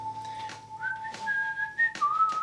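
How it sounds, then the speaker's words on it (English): A person whistles a short, wavering melody up close, clear and alone against faint background noise. "Can you whistle?"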